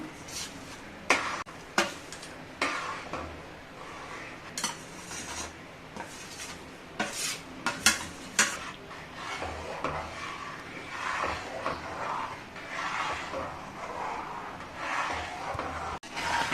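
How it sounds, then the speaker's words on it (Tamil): A utensil scrapes and stirs semolina in a pot with irregular metallic clinks and rubbing, steady and close, with no talking. "கொஞ்சம் கொஞ்சமாக சேர்த்து கிண்டணும்"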